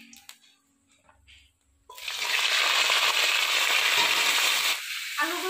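Cauliflower florets dropped into a pan of hot oil with cumin seeds, a sudden loud sizzle that roars steadily and close, easing slightly near the end after a quiet lead-in of kitchen clatter.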